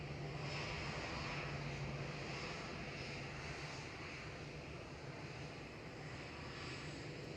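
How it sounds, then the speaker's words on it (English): Boeing 787-9 departing Manchester Airport, a steady distant roar of jet engines that holds fairly constant throughout, faint and unaccompanied by speech. "Now it's time for the 787-9"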